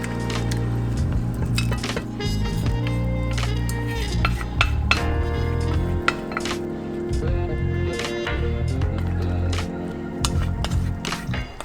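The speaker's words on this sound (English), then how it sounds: "And now to this masala, I am going to add the cooked mutton along with the broth." Cooked mutton and its broth going into a pan of masala and being stirred, with loud metal clinks and scrapes of a spoon against the pan in irregular bursts over a continuous dense rumble.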